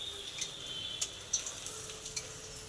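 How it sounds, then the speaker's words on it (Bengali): Batter-coated eggplant fritters frying in oil, a steady soft sizzle with occasional brighter crackles and pops over a faint hum. "এই যে আমাদের কর্তামশাই বেগনি ভাজছে"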